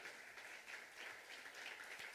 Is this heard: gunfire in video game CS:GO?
no